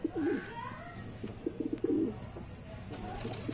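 An old breeding hen pigeon of wild colouring coos in a few low, rolling phrases close by, with brief pauses between and a faint wing flutter.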